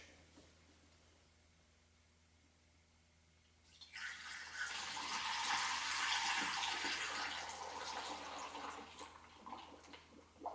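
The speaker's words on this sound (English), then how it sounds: "if you pour this way, it won't gurgle on you and won't splash" Coolant pours from a bottle into the radiator of a 1994–2004 Jeep Grand Cherokee V8 as a steady, close liquid rush that starts after a quiet stretch and runs on without gurgling.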